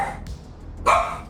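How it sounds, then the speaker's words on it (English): Dogs bark in a single short burst from mid-distance, set against a low background rumble with no speech. "the dogs are barking"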